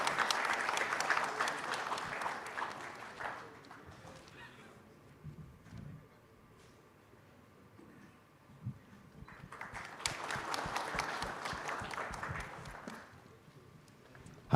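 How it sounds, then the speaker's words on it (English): At the Aviation Horizon 2025 conference, an audience breaks into loud applause that fades into footsteps and quiet shuffling on stage, then swells again into a second burst of clapping. "a big round of applause"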